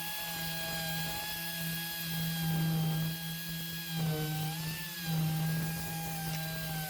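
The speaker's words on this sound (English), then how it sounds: "we've got a little mini DA and we are DAing it" Mini dual-action sander fitted with 80-grit paper sanding the metal of a 1963 Impala SS convertible trunk pan, giving a steady close whine with a strong tonal hum that wavers briefly as the tool is pressed and lifted.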